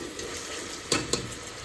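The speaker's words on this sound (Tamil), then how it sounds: "வெங்காயம் நல்லா வதங்கி வரணும்" Onions with green chillies sauté in a pot for a one-pot tomato rice, a soft, steady frying hiss with two sharp scraping stirs of a spoon against the pot, close and fairly quiet.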